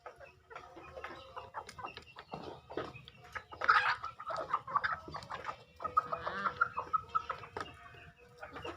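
Chickens cluck steadily throughout, several birds calling in overlapping bursts at moderate distance, with a louder flurry of clucks near the middle.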